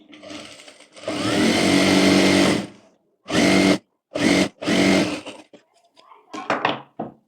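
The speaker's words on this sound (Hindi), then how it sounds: "और यहाँ पर पूरे में सिलाई कर लेंगे।" A sewing machine stitches a collar strip onto the neck of a co-ord set: one long whirring run, then three shorter bursts separated by quiet gaps, with faint handling noises at the end.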